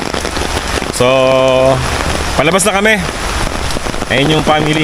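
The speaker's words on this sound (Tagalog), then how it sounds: "Tuloy-tuloy pa rin ang pagbuhos, lalo pang lumalakas." Heavy rain pours steadily at the Dinosaur Island park, a dense, unbroken roar that lasts the whole stretch while people talk close by over it.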